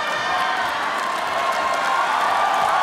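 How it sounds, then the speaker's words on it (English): A heavy Filipino crowd at a ONE Championship fight in Macau roars and cheers steadily throughout, a dense, continuous wall of crowd noise with no clear breaks. "The crowd here, the heavy Filipino crowd in Macau, appreciating it"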